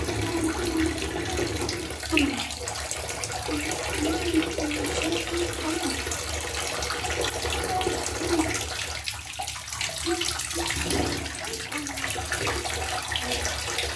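Running water from a toy beauty salon's hair-washing sink gives a steady, fairly loud hiss that fills the scene, with faint brief voice sounds in the background.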